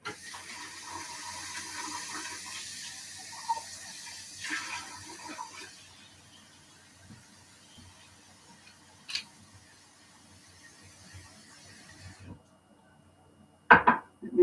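Tap water runs steadily into a container being filled to hold celery, a constant close hiss lasting about twelve seconds before cutting off, then a couple of sharp clatters.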